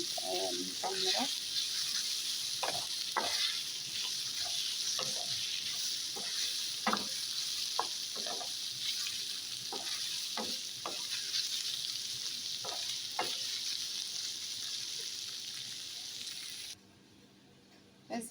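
Garlic and ginger frying in a pan for Chinese fried rice, a steady sizzle with scattered clicks and stirring scrapes, close and continuous until a brief drop near the end.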